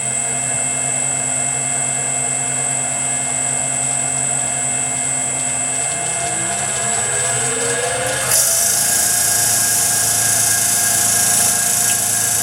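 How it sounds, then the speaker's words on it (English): A fine grinding disc whines steadily against a pink sapphire bar, smoothing its edges in a constant high buzzing drone whose pitch shifts partway through. "So I've now got a finer disc, and I'm going to just smooth this off and get it extremely accurate."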